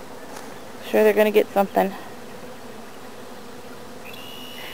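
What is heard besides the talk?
honeybees flying into a hive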